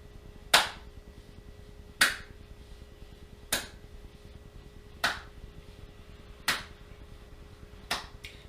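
Six sharp hand claps ring out at a steady pace roughly every second and a half during a workout exercise, each crisp and close against a quiet background.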